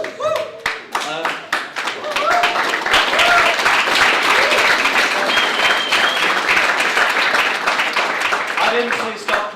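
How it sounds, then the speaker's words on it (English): Closing-night applause from a hackathon audience, a dense burst of many hands clapping that swells and holds steady, with a few voices and cheers mixed in near the start. "I didn't say stop clapping"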